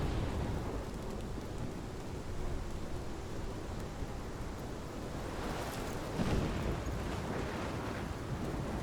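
Thunderstorm in the game Life Is Strange, with steady heavy rain roaring throughout and a low rumble of thunder swelling near the end, no voices.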